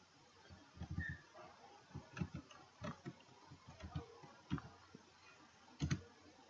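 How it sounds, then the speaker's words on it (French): Faint, irregular keyboard clicks tap away on a computer keyboard, soft keystrokes in small clusters and pauses at a quiet, close level. "donc une fois que vous avez tapé Google Doc dans la barre de recherche"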